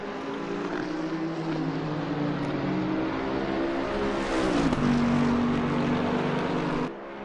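A race car engine in the sim racing game Assetto Corsa Competizione at Suzuka drones steadily and loudly, its pitch dipping briefly before a short downshift and a rise again, then cutting off abruptly near the end.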